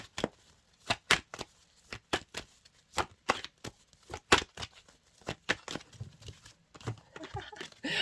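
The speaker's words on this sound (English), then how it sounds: "sometimes I'll keep shuffling and I'll try and get a card to come out" Tarot cards shuffled by hand in a quiet room, a run of crisp riffling bursts at a steady, slightly uneven rhythm, close and clear, with softer rustling toward the end.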